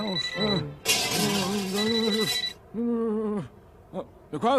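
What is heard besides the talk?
telephone ringing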